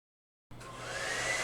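A hair dryer switches on after half a second of silence and blows a steady, loud, airy whoosh with a low motor hum while drying acrylic paint on an abstract painting.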